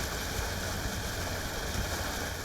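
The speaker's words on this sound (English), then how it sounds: "As the vessel glides away, the only audible sound is the noise of the propellers in the water." Boat propellers churning water on a Bangkok canal as the vessel moves off, a steady, continuous wash of broadband noise with a low rumble underneath, close and unchanging, with no voices.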